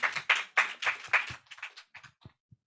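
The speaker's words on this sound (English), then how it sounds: "A round of applause, please." An audience at a digital health talk applauds a speaker coming on stage. The clapping is moderate and close, and it thins to a few scattered claps before fading out.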